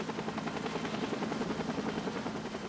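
An Air Care medical helicopter flies steadily overhead, its rotor chop a continuous, even drone at moderate distance with no voices.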